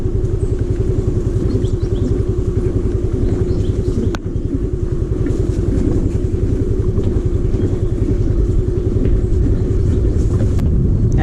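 A motorcycle on the road toward Cobet's Gap in Attalawettuwa drones steadily and loudly throughout, with one brief dip in the engine note partway through and no talking.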